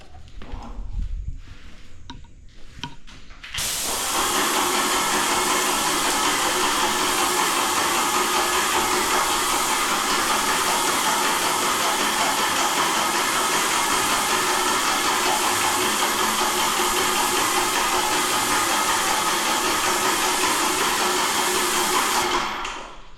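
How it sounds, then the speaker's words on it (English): An HVBAN EP270 airless paint sprayer starts spraying at high pressure after a few seconds of quieter handling noise. A loud, steady, broadband hiss then runs continuously for nearly twenty seconds before cutting off. "It sprays at a very high pressure. Airless sprayer."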